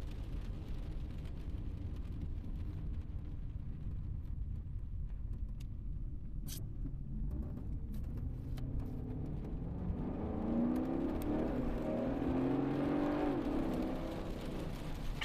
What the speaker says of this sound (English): God, I like driving these cars. Such nice driving sedans.